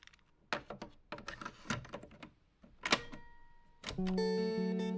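Cassette handling and a single, undoubled tape play button press, a series of close dry plastic clicks and clunks, followed by a steady tonal musical sound that rises and holds to the end.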